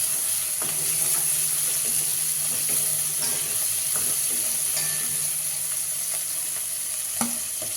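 Onions with turmeric and salt fry in a pan for pork curry, a steady close sizzle with occasional stirring scrapes throughout, no voices.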